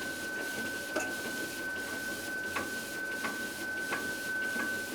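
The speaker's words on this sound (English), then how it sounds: "Every button that is pushed on the machine logs on that printer." Repeated short mechanical chatter from the log printer of a new Union County ballot machine, small rasping bursts about every second or so, close, over a steady electronic whine and room hum.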